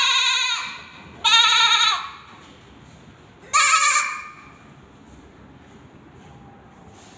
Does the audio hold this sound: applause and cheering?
no